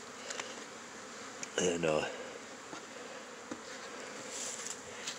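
Honey bees from a hive in Fairplay, Maryland, on a February day keep up a steady, faint buzz. A louder bee passes close once, and a single spoken word is heard briefly.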